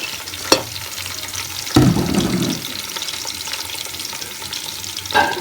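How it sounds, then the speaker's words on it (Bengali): Chopped onions frying in oil in a pot for chicken biryani, a close continuous sizzle with a few sharp clanks and stirring scrapes from a spoon, no voices. "পেঁয়াজ কুচি দিয়ে দিলাম"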